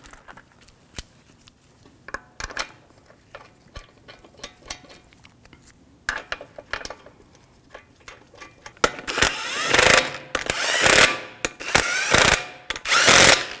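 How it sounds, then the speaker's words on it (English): A ratchet snugs down the lug bolts on the front wheel of a 2001–2009 Volvo S60. Scattered light metallic clicks come first, then several loud bursts of fast ratcheting close by. "Take the lug bolts, get those started. Snug that down."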